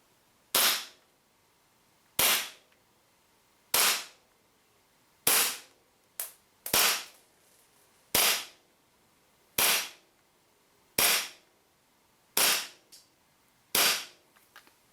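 A WE GP1799 gas blowback airsoft pistol fires 0.2 g BBs on green gas, ten sharp, loud cracks spaced about a second and a half apart, each with a brief mechanical clack of the slide and quiet gaps between shots.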